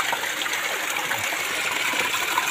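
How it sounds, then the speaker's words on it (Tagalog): A small waterfall pours in a steady, unbroken rush of splashing water at an outdoor site, heard continuously and fairly close with no voices. "Bagsakan ng tubig. Yan sa taas. Mini waterfalls."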